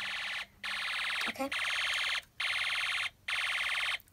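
A Snap Circuits toy burglar alarm wails in a steady, loud electronic siren tone, cutting out in brief regular gaps roughly every second; a short spoken word breaks in once midway.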